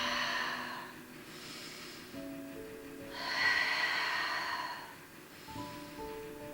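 Slow, audible exhalations during a pilates exercise, two long breathy outbreaths rising and fading, close and soft, over quiet background music with no talk.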